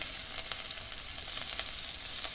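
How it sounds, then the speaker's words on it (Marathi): Mustard seeds and cumin spluttering in hot oil for a dry eggplant dish, a dense steady sizzle with quick faint pops throughout, no voices. "मोहरी व जिरे तडतडले पाहिजे"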